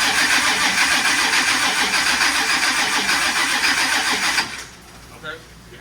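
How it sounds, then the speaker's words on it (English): An LSX V8 in a 442 is dry cranked on its first start-up, the starter churning the engine in a fast steady rhythm, close and loud, for about four seconds before it cuts off, leaving a quiet pause with a brief voice. "gonna dry crank it just to make sure that the belt is I guess aligned properly"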